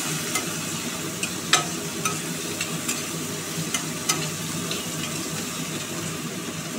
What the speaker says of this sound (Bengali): এবার পেঁয়াজ, আলু, রসুনটাকে একটু ভাজা ভাজা করব